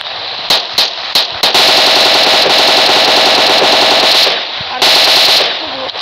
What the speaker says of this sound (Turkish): Evet, orada bir ateş sesi var.